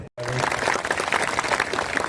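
An audience at a BJP political gathering in Dindori applauds after a brief silence, dense steady clapping filling the moment, with a voice faintly audible beneath.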